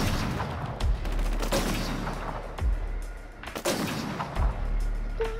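Sniper rifle shots in the Killzone Shadow Fall video game, several heavy booming reports spaced a second or two apart over a rumbling battlefield background, fairly close and loud.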